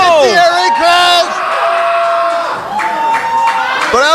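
Wrestling event crowd cheering and whooping loudly, voices swelling and falling under an excited commentator talking throughout.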